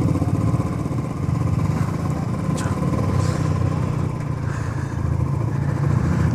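A motorcycle engine hums steadily during a mountain ride from Bumla Pass to Zemithang in Arunachal Pradesh, a close, continuous drone with a constant low rumble and no speech.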